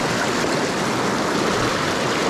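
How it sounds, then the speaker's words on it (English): Fast, rolling water of the Madison River in Montana rushes in a steady, loud, unbroken wash, close by and with no voices over it. "You can see this rolling water here."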